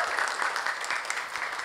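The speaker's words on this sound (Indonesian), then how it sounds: "Tepuk tangan dulu dong Bapak Ibu sekalian." An audience of university staff at a protocol training session breaks into brief, steady applause, a dense even patter of many hands that fills the short moment.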